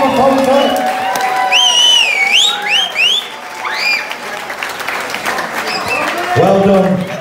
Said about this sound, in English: Give a massive round of applause for everyone calling for it.